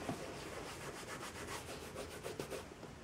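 An old cut-up t-shirt cloth rubs steadily against a white Coach bag, giving a continuous soft scrubbing hiss with a faint rhythmic back-and-forth, close and alone.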